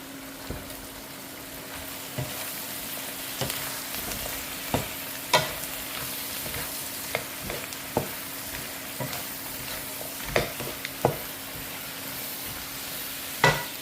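Ingredients sautéing in a pan during an evening cooking session at a food service in Argenteuil, a constant sizzle with sharp, irregular scrapes and taps of a stirring utensil against the pan, close and without voices.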